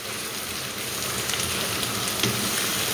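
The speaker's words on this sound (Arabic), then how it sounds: "صافي، كنبقى نقلي ونشحر مزيان هذا الشيء" Fat-enriched dough or filling sizzling and frying in a hot pan for msemen with lard and vegetables, a steady dense crackle held at an even level throughout with no voices.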